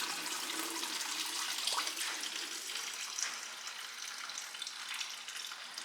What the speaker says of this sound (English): Since that's draining, I'm just going to go ahead and take off the lower radiator hose over here.